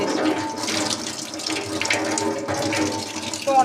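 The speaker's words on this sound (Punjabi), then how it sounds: "ਇਸ ਤਰ੍ਹਾਂ ਚਾਹ ਪਾਣੀ ਦੇ ਵਿੱਚ ਲੈ ਕੇ ਨਾ ਤੁਸੀਂ ਇਹਨੂੰ ਧੋ ਸਕਦੇ ਆ" Used tea leaves are rinsed under water, with a steady splashing, running-tap sound close by that continues throughout, like a sink being filled.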